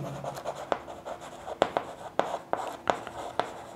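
Chalk or marker tapping and scratching out numbers on a board, a run of short sharp strokes in an irregular rhythm, close and fairly quiet in a still room.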